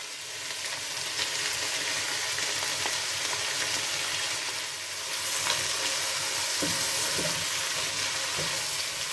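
Celery and fresh garlic cooking over high heat in a pan, a continuous dense sizzle and hiss with faint occasional ticks and stirring, close and unbroken by speech.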